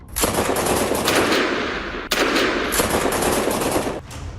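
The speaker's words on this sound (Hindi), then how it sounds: "अमेरिका की राजधानी में दनादन गोलियां चल रही हैं।" Gunfire crackles in news footage of an attack in Washington: rapid bursts of automatic shots, loud and close, broken by a sharp crack partway through and a short pause near the end.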